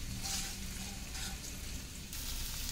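Sooji-coated herb potatoes fry crisp in a pan with a loud, continuous hissing sizzle that swells and eases slightly, no voices present.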